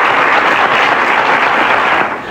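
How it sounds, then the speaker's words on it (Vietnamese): A television game show studio audience bursts into dense, loud applause that holds steady before tapering off at the end. "không thể nào thiếu được những tràng vỗ tay cổ vũ của tất cả quý vị."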